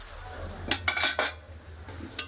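A metal lid lifted off a cooking pot of potato, shrimp and okra curry, heard as a few close clanks and scrapes of metal on metal in quick succession, then a final sharp clink, with no voices.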